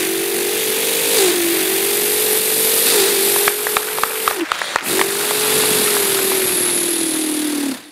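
A voice imitates a sport bike engine revving, a sustained nasal droning tone rising and falling in pitch with a short broken break midway, close and fairly loud.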